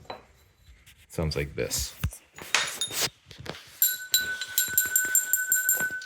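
Metallic clanks and scrapes give way to a struck metal piece of a homemade instrument built from trash ringing with a sustained high tone, close by, with a brief word spoken.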